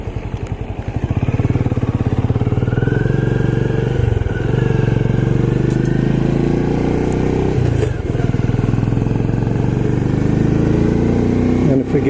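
A Benelli Imperiale 400 motorcycle runs on a sunny road, its single-cylinder engine thumping loud and close with a steady exhaust beat, the revs rising and dipping briefly a couple of times.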